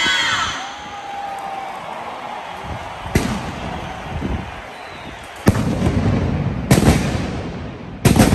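Mascletà firecrackers at Fallas de Valencia 2022, fired by Pirotecnia Ricasa: a dense rumbling barrage of bangs with loud sharp blasts standing out near the end, and a crowd faintly audible underneath.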